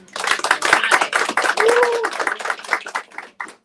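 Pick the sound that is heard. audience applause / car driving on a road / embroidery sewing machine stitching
audience applause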